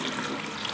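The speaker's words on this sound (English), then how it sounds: "Just going to put it on cold water." Cold tap water runs steadily into a kitchen sink while small aquarium rocks are rinsed, a dense close hiss of flowing water with no voices.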